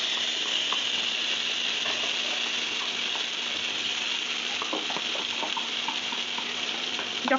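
Cumin seeds sizzling in hot mustard oil in a kadai for a green pea kachori filling, a steady close frying hiss with faint crackles and light utensil clicks, no talking.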